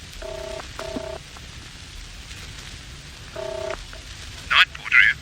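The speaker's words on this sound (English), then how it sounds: "I just had to phone David. But there was no reply." Push-button telephone being dialled in an audio drama, three separate bursts of steady dual-tone beeps, followed by a couple of brief brighter clicks near the end over a faint background hiss.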